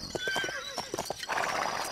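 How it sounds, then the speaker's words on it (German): Horses in the Lego City Undercover video game clip-clop steadily and close by, then one neighs in a loud whinny near the end. "Überall Pferdchen, Pferdchen,"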